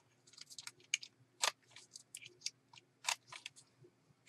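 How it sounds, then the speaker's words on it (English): Corner chomper punching the corners of paper, a quick series of crisp snipping clicks and crunches, close and fairly quiet with no talking. "I'm going to use my corner chomper on the 1/4 inch and chomp those corners"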